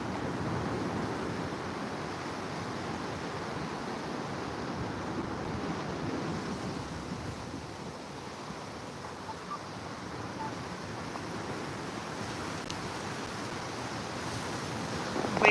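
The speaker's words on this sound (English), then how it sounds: "Wind's just really bad." Strong coastal wind buffets loudly and continuously, a broad rushing roar with surf-like swells and microphone wind noise, heard alone without speech.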